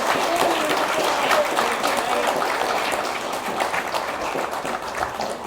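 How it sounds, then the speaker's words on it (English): A crowd at a high school graduation applauds the graduates' parents, loud sustained clapping that stays strong before easing gradually toward the end. "give a round of applause for our parents"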